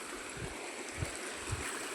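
Steady rushing of a flowing forest stream in the hills, close and continuous, with a few soft low thumps underneath.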